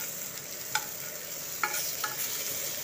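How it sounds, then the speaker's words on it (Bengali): Spiny gourd (kakrol) slices fry quietly in a pan, a faint continuous hiss broken by a few sharp pops and clicks, with no voices present. "দেখুন একটা পিঠ সুন্দর করে ভাজা হয়ে গেছে।"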